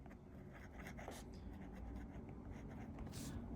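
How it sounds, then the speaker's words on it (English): A Lamy CP1 fountain pen with a medium steel nib writes on paper, giving soft, close scratchy strokes in a quick irregular rhythm, faint and heard on its own without talk. "But I'll just give a quick writing sample so you can see what it looks like to write."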